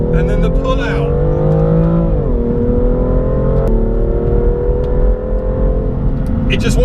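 A 2017 BMW M2 engine pulls hard on track, its tone climbing, dipping through a shift, then rising again, close and loud, with talk over it.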